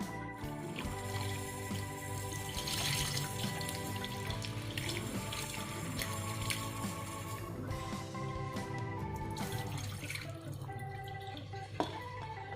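Crushed jengkol being washed under running tap water in a kitchen sink, a continuous splashing stream with trickles and drips, fairly quiet and close, with a sharp clink near the end.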